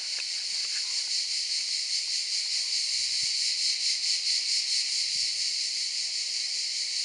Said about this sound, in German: Das sind Grillen.